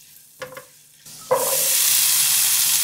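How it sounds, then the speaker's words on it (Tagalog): Rice being stir-fried with oyster sauce and pepper in a hot pan for chow fan: a couple of scraping stirs, then a loud, steady sizzle that swells in and holds to the end, with no talking. "Next, magsangag na tayo."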